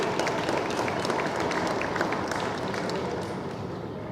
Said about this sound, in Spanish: claro, un aplauso.